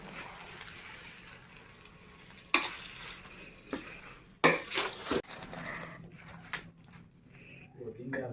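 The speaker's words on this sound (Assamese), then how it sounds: "তেল ঢালিলোঁ, গৰম তেল, তাৰপিছত এতিয়া আদা অলপ দিলোঁ আৰু অলপ জলকীয়া দিলোঁ।" Ginger and chili frying in hot oil, a low sizzle punctuated by sharp clattering stirs and pan knocks, loudest in the middle, while someone talks nearby throughout.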